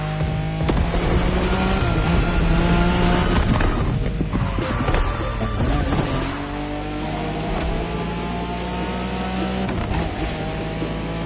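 A Nissan Skyline races in The Crew Motorfest, its engine droning steadily with harmonic tones that rise and shift through gear changes, loud and close throughout, with no talking.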